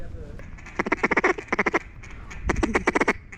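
Mallard ducks quacking in rapid bursts of repeated calls, two clusters of loud, close nasal quacks outdoors during a duck hunt in Arkansas, with faint background noise between them.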